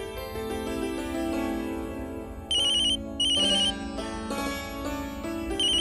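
A phone rings with a melodic ringtone announcing an incoming call from Varsha, steady and clear, rising into bright high-pitched beeping bursts partway through, with no talking over it.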